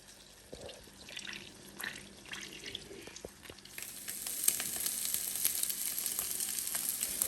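Omelettes frying in butter in a pan give a soft crackling sizzle that swells louder and brighter partway through, with scattered pops and light scraping, close by and without talk.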